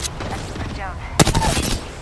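Rapid bursts of video game gunfire crackle through an online shooter match, peaking in a sharp, loud volley midway while a player talks over the action.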